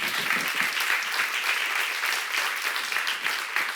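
A church congregation at a Korean seminar on Exodus claps together in a steady, dense patter of applause, fairly close and continuous without talk.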